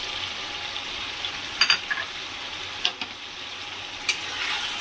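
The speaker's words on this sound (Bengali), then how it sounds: "ভালো করে নেড়ে নিয়েছি টমেটো আর আলুটা দিয়ে।" A spoon scrapes and knocks against a pan as mutton is stirred with tomatoes and fried potatoes, a few sharp clinks over a soft steady sizzle, close by with no talk.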